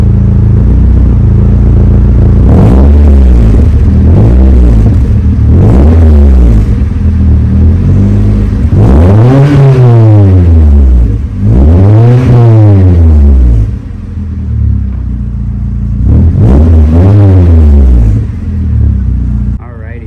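A Mazda Miata NB with a newly fitted exhaust revs in a series of sharp throttle blips, each rising and falling in pitch, with a couple of longer pulls in the middle, loud and close over a steady idle.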